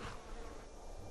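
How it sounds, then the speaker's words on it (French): A mosquito buzzes in a thin, continuous high drone, faint and close, lasting only about a second with no talk. "Moustique."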